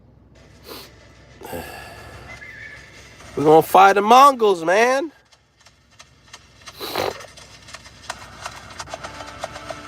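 A horse neighs loudly in a video game, a rising and falling whinny lasting over a second, with snorts, scattered hoof clatter and someone speaking around it.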